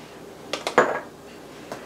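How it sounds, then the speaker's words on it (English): A utensil clinks and scrapes against a bowl while a corned beef patty mixture with egg is stirred, a few sharp close knocks followed by a short scrape, no talking. "Okay, I'm going to start stirring this up."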